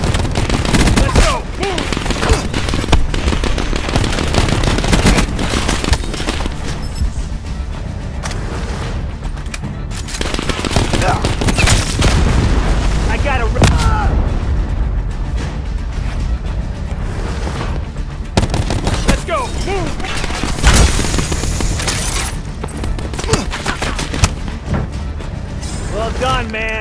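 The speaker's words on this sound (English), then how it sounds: "Now that was a hellstorm. Pretty sweet missile, huh?" Hellstorm missile scorestreak explosions in Call of Duty Black Ops 4 land among chaotic multiplayer combat, a dense, loud barrage of booms, blasts and rapid gunfire that carries on nearly without pause, with bigger hits near the start, middle and end.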